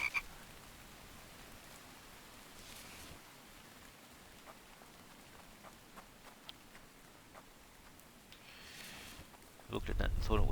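Frogs croak from a rainy outdoor area in the survival video game The Infected, faint intermittent calls over a steady wash of rain, with a louder burst of noise at the very end.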